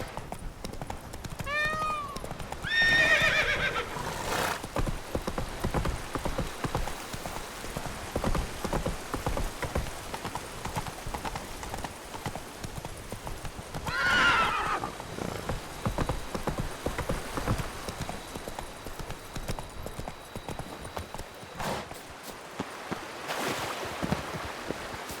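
Roach, Geralt's horse in The Witcher 3, trots with steady clip-clopping hooves throughout, and a short whinny rises near the start over faint ambient game sound.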